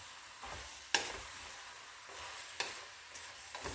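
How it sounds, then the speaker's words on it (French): Vegetables for a courgette soup sauté in a pan with a soft, fairly quiet sizzle, broken by occasional sharp clicks and scrapes as they are stirred. "Et on va faire rissoler un petit peu nos légumes."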